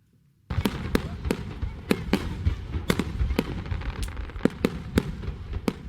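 Fireworks at an Oman national day celebration burst in a rapid irregular series of sharp, loud cracks and bangs over a continuous crowd-like rumble and crackle.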